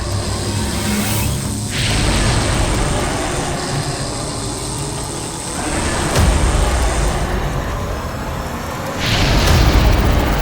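A fiery magical fireball blast in a fantasy superhero show, heard as several loud, heavy booming whooshes that swell and roll in waves, each surge thundering close and full with no voices.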